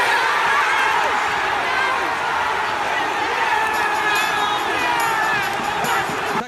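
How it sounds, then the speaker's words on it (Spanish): A football stadium crowd roars and chants continuously after an Arsenal penalty goal, loud and unbroken, with a voice speaking over the noise. "Gritos, cánticos, euforia total."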